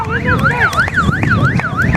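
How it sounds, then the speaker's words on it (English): A loud wailing siren at a boys' high school lacrosse game sweeps rapidly up and down in a steady repeating cycle, close and continuous, with rumbling background noise beneath it. "I think it was a siren."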